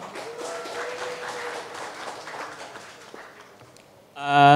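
Steady applause from a crowd at a Jakarta public transport talk fills the room, fading toward the end before a brief loud burst of tone cuts in.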